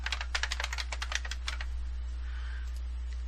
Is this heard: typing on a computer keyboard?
yes